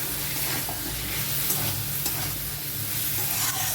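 Pieces of taro fry with a ground mustard and poppy seed paste in a pan, making a dense, steady sizzle close up with faint stirring scrapes underneath.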